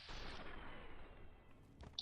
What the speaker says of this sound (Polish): Jeszcze jeden strzał głowę